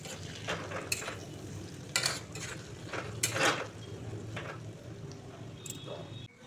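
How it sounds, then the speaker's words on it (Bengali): A spoon scrapes and stirs mashed taro frying in a pan, giving a few sharp clinks and scrapes against the metal over a soft, steady sizzle. "এখন কচুটাকে দিয়ে ভালো করে নেড়ে চেড়ে কষিয়ে নেব।"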